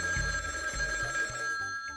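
A cartoon telephone rings in repeated short bursts, a bright bell-like trill pulsing several times and fairly close, with no voices over it.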